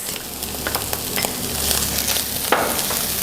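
Chicken pieces frying with onion cut into brunoise in a hot pan, a continuous crackling sizzle with intermittent scraping stirs and a sharper burst near the end, close up with no talking.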